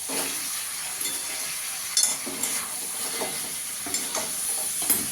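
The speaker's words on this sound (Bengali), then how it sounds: "ভালো করে মিশিয়ে নেব।" Cauliflower with vinegar and salt being stirred in a hot pan, giving a steady sizzle with scraping clicks from the spoon at irregular intervals.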